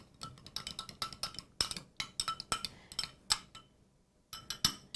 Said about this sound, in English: I'll stir that up